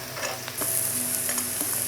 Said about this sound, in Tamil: பூண்டை சேர்த்து இப்போ நல்லா சாட்டே ஆகிட்டு வெங்காயம்.